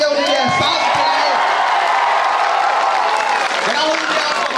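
Loud, dense applause from a large crowd fills a political rally, with cheers and whoops mixed into the continuous clapping the whole time.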